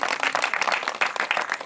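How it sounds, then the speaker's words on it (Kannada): An audience at a religious sermon claps together in a short, dense burst of applause, close and loud with no talking. "ಎಲ್ಲರೂ ಗಟ್ಟಿ ಚಪ್ಪಾಳೆ."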